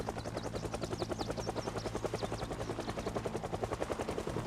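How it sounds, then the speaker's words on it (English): The helicopter event in the video game Project Zomboid passes overhead as a steady, rapid rotor thump that beats evenly throughout, loud and close, with a broad whooshing wash around the pulses. "Yeah, this is the normal heli event, and it's bad"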